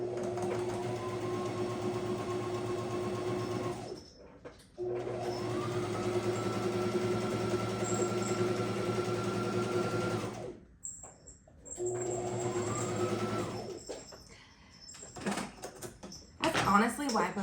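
A sewing machine stitches quilt pieces using enders and leaders, running in three long steady whirring bursts with brief stops between them, then some handling clatter at the end, close and clear.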